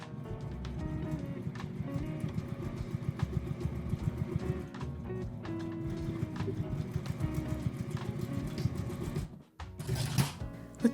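A sewing machine stitches the lid side of a lined fabric tissue case, its fast rhythmic mechanical clatter running steadily and close for about nine seconds, then briefly stopping before a short burst of handling noise.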